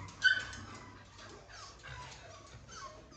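Beagle puppies at a dog kennel give a few short whimpers and yips, with one sharper cry near the start and softer whines after, fairly faint over background noise.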